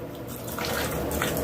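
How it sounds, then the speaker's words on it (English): Residual water trickling and dripping from a hot water valve being repaired, a soft continuous splashing wash with brief brighter drips, close by and without talk. "Oh, it's just dripping from there."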